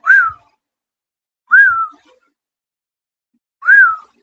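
A person whistles to imitate a whistle heard in the woods, three short, rising-then-falling whistled notes spaced about two seconds apart, clear and close, with silence between them.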